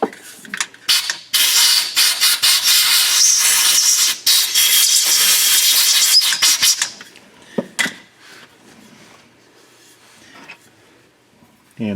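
Compressed air blowing dirt off the drain plugs of a 2014 Chevrolet Equinox transfer case and differential: a loud, close hiss in several long bursts over about seven seconds, then quieter clanks and handling noises.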